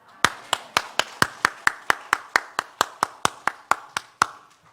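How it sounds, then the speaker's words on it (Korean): A church congregation claps in unison to glorify God, about eighteen sharp, evenly spaced claps in a steady brisk rhythm, close and distinct, ending abruptly. "하나님께 영광의 박수"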